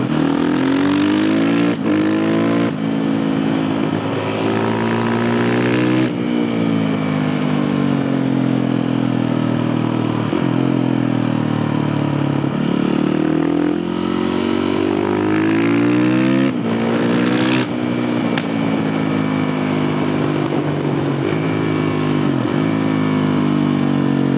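A Suzuki RMZ 450 motocross bike engine revved repeatedly, loud and close, with the pitch rising and falling through several throttle blips over a steady idle, no talk over it.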